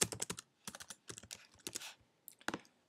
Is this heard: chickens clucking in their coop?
no